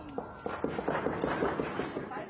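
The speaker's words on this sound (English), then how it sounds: "Gunshots." A rapid string of sharp, evenly spaced bangs, like gunshots, fires about a dozen times over a steady rumbling background.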